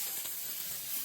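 Cut onions sizzle in butter in a hot skillet, a brief, even, close hiss with no voices.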